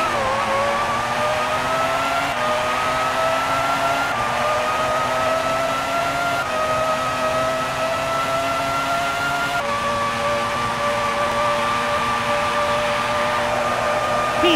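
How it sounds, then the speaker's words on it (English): A racing car in a video game, driven in a wet race at Interlagos, whines loudly and steadily as its engine pitch climbs through each gear, with brief breaks at the shifts and no voices. "Into fifth. He's accelerating hard now."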